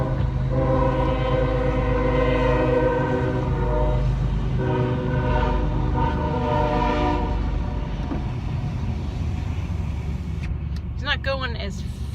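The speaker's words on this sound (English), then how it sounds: "Uh-oh, a train's coming." A passing train sounds its horn in long, loud blasts over rumbling cars, as heard from a car during errands; a person's voice comes through near the end.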